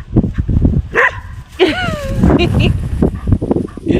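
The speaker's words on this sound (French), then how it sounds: "Un chien heureux." A dog gives short excited yips and whimpers close by, mixed with rising whines, while people talk and laugh around it.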